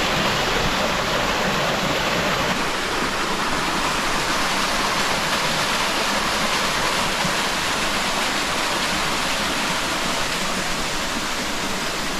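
Water rushes steadily through a mountain valley stream near Jingwansa temple on Bukhansan, a loud, close, unbroken broadband roar that holds evenly throughout with no talking over it.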